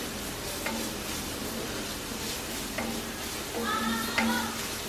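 Garlic and ginger fry in an American-made cast iron pan while crab is prepared, giving a steady low sizzle with a few light scrapes and clinks of stirring.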